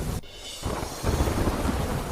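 Heavy rain pours over the flooded village of Jam Raval near Dwarka with a deep rumble of thunder, a dense broadband roar that drops briefly and then returns louder.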